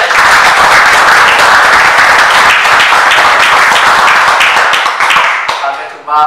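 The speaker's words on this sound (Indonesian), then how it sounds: "Tepuk tangan untuk Anda semuanya yang luar biasa." Loud, dense audience applause fills a public motivational lecture hall, sustained and even before thinning out near the end as a voice briefly comes in.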